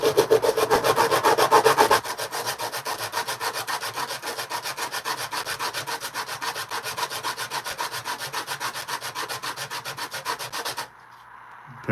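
Steady, continuous sanding on a pure copper dragon ring as the ridges are smoothed away, a rapid rhythmic rasp that is heavier for the first two seconds, then even and close until it stops abruptly near the end.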